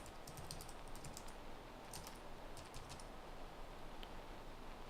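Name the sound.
typing login credentials on a computer keyboard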